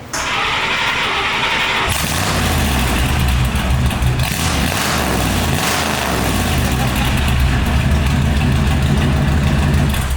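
A car engine with a new exhaust turns over and settles into a loud, rumbling idle with a deep, throaty exhaust note that holds steady throughout.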